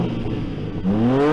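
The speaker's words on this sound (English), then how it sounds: "Rev up the new M4, will you?" A new BMW M4 engine idles with a low rumble and then revs up, its pitch climbing steadily, heard close by with no talk.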